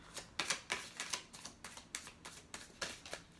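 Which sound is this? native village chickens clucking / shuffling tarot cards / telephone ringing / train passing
shuffling tarot cards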